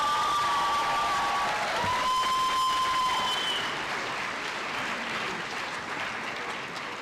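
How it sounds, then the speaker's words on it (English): A graduation audience claps for the St. Joe's Club award winners at a Grade 12 ceremony. The applause is dense, sustained and roomy, with a few faint whistles and cheers early on, and it fades slightly toward the end. "Give them a round of applause."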